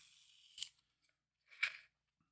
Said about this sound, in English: When you lay it flat, you just take your X-Acto,